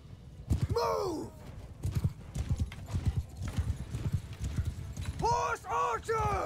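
Horse archers gallop in battle in the video game Mount & Blade II: Bannerlord, with rapid clip-clop hoofbeats and a couple of loud neighs over the noise of fighting, while someone shouts commands.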